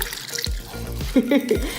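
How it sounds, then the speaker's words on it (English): Sauce mixture poured into a plastic freezer meal bag, with short wet splashes and glugs and faint rustling of the bag, close and fairly quiet. "we're just gonna pour this into a freezer meal bag too"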